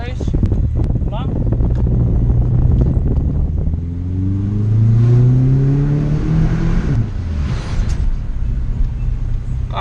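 A Subaru Legacy GT engine revs up and winds down, the rising and falling drone loud and close with wind buffeting, brief voice sounds in the background.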